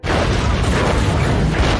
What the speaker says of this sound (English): Seconds later, a deafening explosion clears the way for Alice, Claire, and the other survivors.